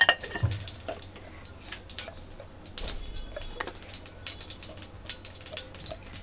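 Cumin seeds drop into hot oil in a pan, opening with a sharp clatter, then a light crackling sizzle with scattered ticks and pops, close up and without speech.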